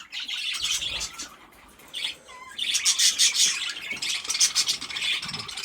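Dozens of farm birds kept in an enclosure chirp and squawk in a busy chorus, with bursts of overlapping calls rising and falling close by and faint scratching underneath.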